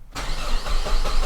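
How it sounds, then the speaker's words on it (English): A Saab 9-5 Turbo engine cranks and catches close by, with a loud, rough starting roar that quickly settles into a steady rumbling run. "Let's crank this baby up."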